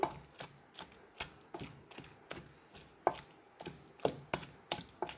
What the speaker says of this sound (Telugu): బాగా కచ్చా పచ్చగా దంచుకుందాం